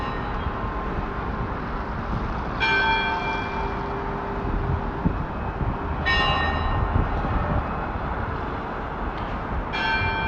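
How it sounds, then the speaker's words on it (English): Church bells ring out across Moscow at Christmas in three separate bright clanging peals, each fading slowly, over a steady low rumble of city traffic, heard from some distance. "They're just starting, ringing the bells"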